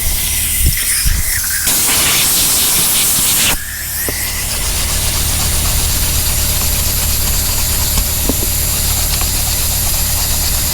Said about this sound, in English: My compressor done came on now, so I hope you can hear me.